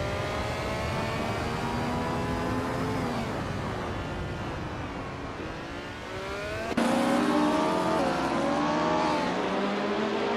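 Race car engines in a racing video game, including a 1971 Ferrari 312, wailing at high revs with rising and falling pitch. An abrupt cut midway brings a louder, closer engine note, with no voices.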